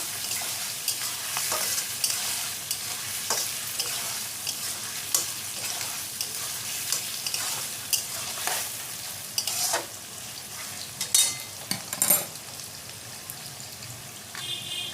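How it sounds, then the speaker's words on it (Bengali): Vegetables for an egg chicken pasta sizzle and fry in a pan while a spoon stirs them, with soft continuous frying hiss and occasional sharper scraping clicks of the stirring, close and fairly quiet, no talking. "তো বন্ধুরা একটু নেড়ে দেবো সবজিটা।"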